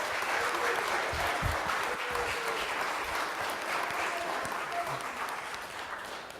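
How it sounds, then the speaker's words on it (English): A church congregation applauds its children, with steady clapping from a sizable crowd sustained throughout at moderate level, no other sound standing out. "Let us all have a round of applause for our children."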